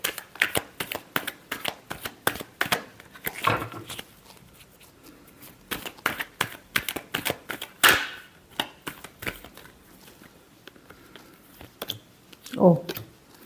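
A tarot deck is shuffled close by in steady runs of quick papery snaps and riffles with short gaps, a few sharper taps mixed in, and a voice briefly heard among them.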